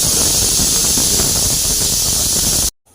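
Mustard seeds splutter in hot oil while tempering for a Tamil mixed-greens keerai kadayal, a loud close steady sizzling hiss that cuts off abruptly near the end.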